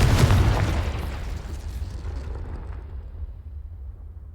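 A Confringo blasting spell detonates in a Harry Potter wizarding video game, one loud close boom with a sharp crack at the start, then a long rumbling tail that fades over several seconds.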